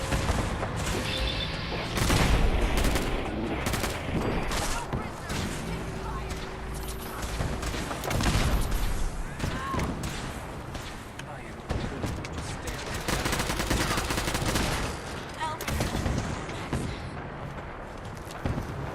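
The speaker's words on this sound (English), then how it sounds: "When in doubt, big machine gun." Machine gun fire in Fallout 4, repeated bursts of rapid shots crackling throughout amid a busy, noisy battle, with a voice talking over parts of it.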